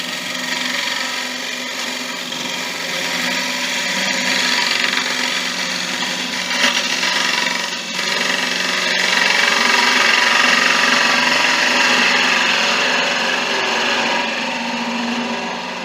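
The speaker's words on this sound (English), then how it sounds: "when I do the pull with the, excuse me, with the big negative brake scraper, that will completely get rid of that" A wood lathe turns an end grain bowl while a large negative rake scraper cuts across it, giving a steady, loud, continuous scraping whir that swells slightly midway and runs without speech.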